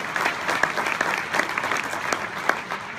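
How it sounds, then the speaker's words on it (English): Audience applause at a business presentation, a sustained round of dense clapping from a crowd, fairly loud and even throughout. "I think that deserves a big round of applause for Nu Skin"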